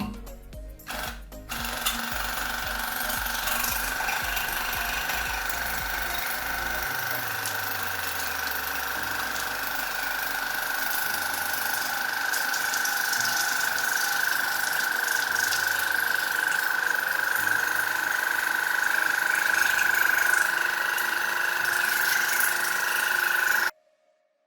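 Xiaomi SOOCAS W3 water flosser running steadily while rinsing the mouth, a continuous close motor whine with spraying water, lasting about twenty seconds before cutting off abruptly.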